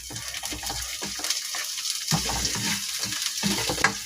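Food sizzles and fries steadily in a home kitchen pan while being stirred, with intermittent scraping and clinking of the utensil against the pan over a constant crackling hiss.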